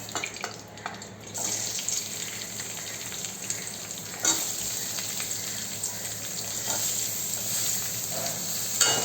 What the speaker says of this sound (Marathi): याला पण 2 मिनिटं फ्राय करून घ्यायचं।